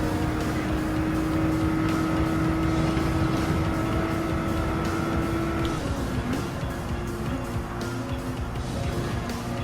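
Gr.4 race car in Gran Turismo 7 at Dragon Trail Seaside, its engine droning loudly and steadily as it accelerates, the pitch rising and shifting near the end.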